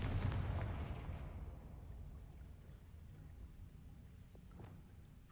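A Confringo blasting spell in the Hogwarts Legacy game erupts in a loud booming explosion at the start, then fades into a long, low rumbling decay.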